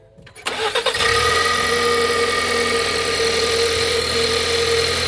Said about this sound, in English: Now I'm gonna crank it up.